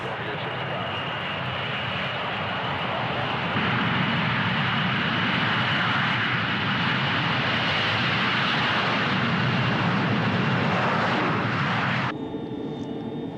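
Airliner engines roar steadily during takeoff, a loud continuous jet rumble that swells midway and then cuts off abruptly near the end.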